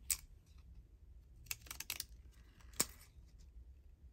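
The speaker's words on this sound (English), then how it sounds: "I call them the crunchy scissors because they make the crunchy noise." Crunchy craft scissors snip through paper at a table, giving a few sharp, separate cuts with quiet gaps between them, close and fairly soft.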